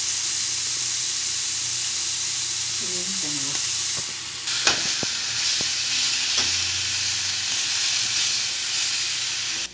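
Cecina, thin salted beef, sizzles steadily on a hot griddle for street-style tacos, a loud continuous hiss and crackle with a few brief clinks and scrapes of a utensil partway through, no voices.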